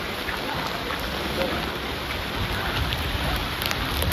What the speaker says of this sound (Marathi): काल रात्रभरपासून पाऊस खूप सगळीकडेच आहे